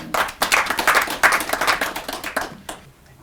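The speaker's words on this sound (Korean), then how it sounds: "큰 박수 보내주시기 바랍니다" Audience applause at a talk on Korean football: a dense round of clapping with distinct sharp claps, sustained for about three seconds before thinning and tapering off, with no voices.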